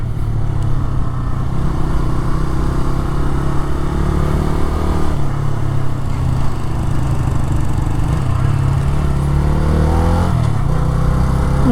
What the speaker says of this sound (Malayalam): കംപ്ലീറ്റ്ലി ഈസി ആയിട്ട് തന്നെ ബൈക്ക് ഓടുന്നുണ്ട്